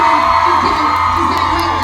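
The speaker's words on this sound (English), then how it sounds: "I need a giant round of applause for our beautiful bride, everybody." A wedding-style crowd at a fan convention event cheers and whoops for the bride, a loud, continuous mass of voices shouting and hollering with no clear individual claps.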